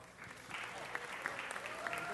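Applause from the audience at a city council meeting, a steady, moderately loud patter of clapping with a few sharper claps and some voices mixed in.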